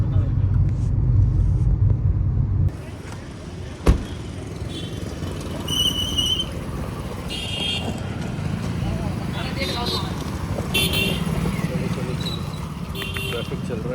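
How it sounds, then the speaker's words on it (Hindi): Road traffic of cars and motorcycles passing in Lucknow, a steady low rumble with occasional horn toots and a sharp bang, voices talking over the din throughout. "ट्रैफिक चल रहा है थोड़ा सा।"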